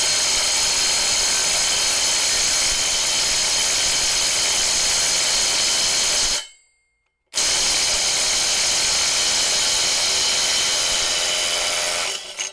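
A DeWalt impact driver runs flat out on a nut-busting test, producing a loud, continuous close-up hammering whir that stops for about a second in the middle before resuming.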